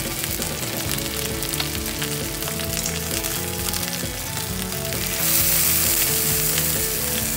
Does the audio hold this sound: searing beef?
yes